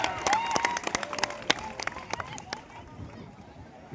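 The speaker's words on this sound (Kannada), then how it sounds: "ಒಂದ್ಸಲ ಜೋರಾಗಿ ಚಪ್ಪಾಳೆ ತಟ್ಟದ ಅವಂಗ" Clapping at a village kabaddi match during a Basaveshwara temple fair, sharp hand claps in a quick uneven burst for about two and a half seconds, then fading out, with crowd noise beneath.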